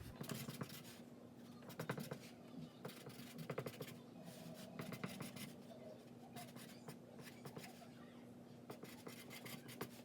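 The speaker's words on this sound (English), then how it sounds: "Write the address down" Pen scratching out an address on a cardboard shipping box for a painting, a steady run of short dry strokes close by, with a faint low hum underneath.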